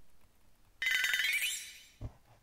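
Telephone ringing in the Yoiyami no Kage video game, a single bright electronic ring burst lasting under a second that then cuts off, followed by a soft thump, otherwise quiet.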